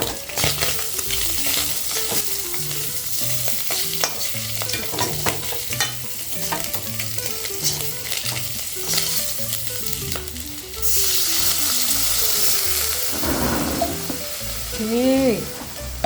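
Chilies sizzle in a frying pan as they are stirred, a steady crackling fry with repeated scraping and clinking strokes of the utensil, close by, growing louder and hissier near the end.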